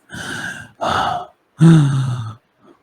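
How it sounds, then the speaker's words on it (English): Heavy breathing, three long labored breaths with a deep groaning exhale on the last, close and loud with short pauses between, then a faint brief breath at the end. "No sound at all, just the sound of heavy breathing"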